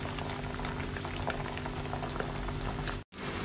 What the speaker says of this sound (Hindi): ये पानी हम अच्छे से उबलने देंगे इसको।